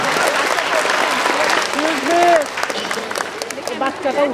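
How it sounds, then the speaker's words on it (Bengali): An audience claps loudly for a young first-place prize winner at an award ceremony, with dense continuous applause and voices chattering underneath. "যেটাকে জোরে করে তালি দিব আমরা"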